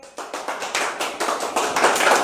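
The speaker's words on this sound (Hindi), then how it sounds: "एक बार जोरदार तालियों के साथ उनका स्वागत करिए।" Clapping builds quickly into applause at a company app launch event as the chairman is welcomed, with individual hand claps merging into a growing, fairly close wash of sound.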